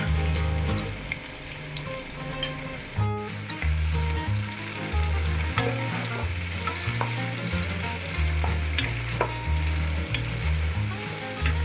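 Onions and green chillies frying in oil for a Nellore-style prawn biryani, a strong continuous sizzle broken by repeated scraping stirs of a spoon against the pan, close and loud with no speech.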